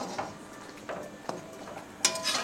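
Plantain being stirred into masala in a pan, with a few separate scrapes and taps of a utensil against the pan and a brighter clatter near the end.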